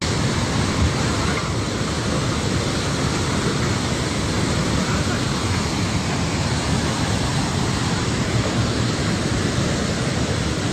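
Flood water from a burst dam in Nepal roars past in one unbroken, dense rush. The loud, churning wall of noise holds steady throughout with no pauses and no voices.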